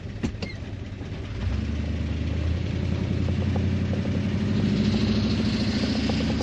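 A car with freshly swapped cams idles and runs at low RPM, a steady mid-pitched engine drone that settles in after a moment and carries a faint rattle, close and continuous with no talk.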